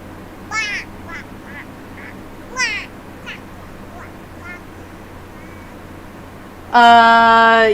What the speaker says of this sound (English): Yes, there is a shark duck.